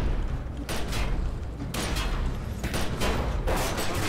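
Gunfire crackles in the video game The Secret World, with dense bursts of shots and booms packed together loudly and continuously, and no voice over them.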